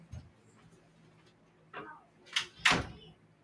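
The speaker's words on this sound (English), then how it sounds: "Close the door." A door closes indoors with a faint knock, a short scrape, then a sharp latching thunk, all near and alone with no talking.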